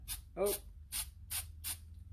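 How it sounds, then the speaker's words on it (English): Paint is sprayed onto a sunrise painting in short hissing bursts, about five quick close sprays with brief gaps, a faint voice heard between them. "add a little bit of that spray, kind of gives it the effect that you have all this light coming through"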